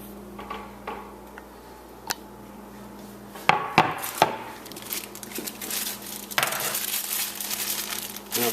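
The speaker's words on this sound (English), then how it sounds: "I'm going to just take the apples and the bananas that we've already cut up and toss them in" Cut apples and bananas tossed into a baking dish: a few sharp wooden knocks and soft thuds, then a denser burst of tumbling, clattering fruit pieces, close and fairly loud.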